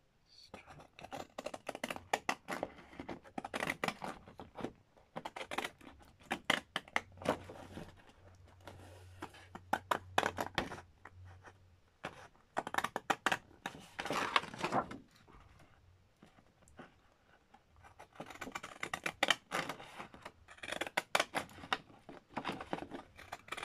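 Deckle edge scissors snip through paper from a pad in a series of crisp, close cutting bursts separated by short pauses, with rustling paper handling in between.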